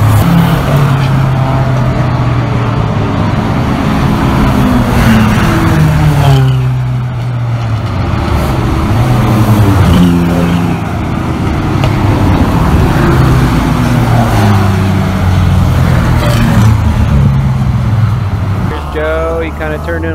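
Race cars at a 24 Hours of LeMons endurance race at Sonoma Raceway, engines droning and revving as they pass, with a voice talking over the steady track noise.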